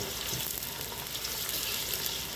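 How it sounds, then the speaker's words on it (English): Onions fry in a pan with a constant, fairly faint broadband sizzle that holds steady throughout, close up with no voices. "as you can see, the onions are kind of fried up"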